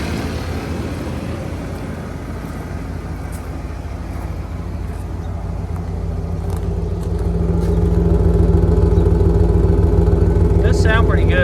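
A 30-year-old Ford OBS truck engine runs quietly as a low, steady rumble that grows slightly louder toward the end, with talking heard over it.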